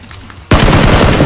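A sudden loud burst of gunfire erupts in the PUBG video game after a quiet moment, close and sustained for the rest of the clip.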